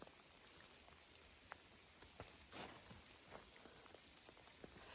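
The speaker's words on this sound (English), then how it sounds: "Do you guys hear the sleet and everything?" Sleet falls steadily outside in New Hampshire, a soft continuous patter with occasional sharper drops, quiet and with no voices.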